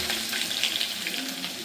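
Garlic and onion fry in a pan with a dense, steady sizzling hiss, close and fairly loud, with no talking.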